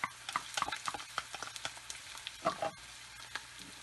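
Chopped onions, carrots and garlic sizzle in a pan for Sicilian arancini, a quiet crackling fry punctuated by spatula stirs and scrapes, with no talk.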